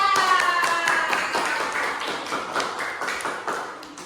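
Sixth-grade classroom applause for student groups, a steady patter of many small hands clapping close by, slowly tapering, with a faint whistle-like tone early on.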